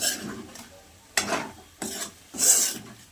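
A spoon scrapes and stirs prawns with turmeric in a frying pan, making several separate rasping sweeps with a faint sizzle underneath, up close and without speech.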